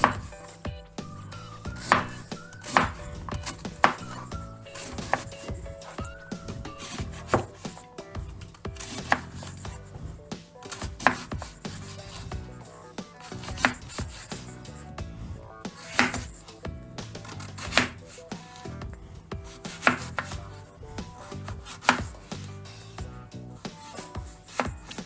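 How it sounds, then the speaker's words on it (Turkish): Rapid, steady knife chopping of red cabbage on a cutting board, a dense run of crisp strikes continuing throughout with faint kitchen clatter in the background. "Şöyle bunları da ince ince doğrayacağız."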